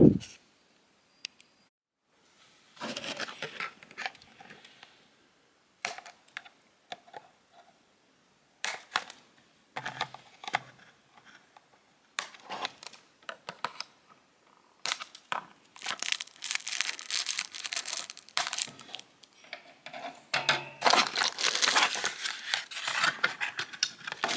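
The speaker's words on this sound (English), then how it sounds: "And now let's get the figure free from this card here." A Transformers Studio Series Deluxe Class Bumblebee action figure is pulled free of its cardboard blister packaging, with close, intermittent bursts of crinkling plastic, tearing and crunching card that grow denser and louder toward the end.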